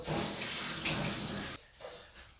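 Tap water runs steadily while lettuce is rinsed for Korean stir-fried spicy pork, a full broadband splashing wash that cuts off abruptly, leaving quieter trickles and faint drips afterward.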